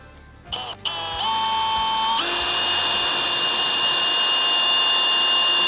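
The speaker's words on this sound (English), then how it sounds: "First, we're going to make our drill hole." A power drill bites into a camper panel for a diesel heater port, a brief clunk at the start, then a steady, loud, high-pitched whine holding constant as the bit cuts through, close by with no talking.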